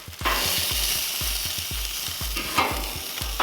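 Chicken wings grill on a Monument Grills MESA 400, giving a steady bright sizzle broken by regular low knocks, close and fairly loud, with no talk.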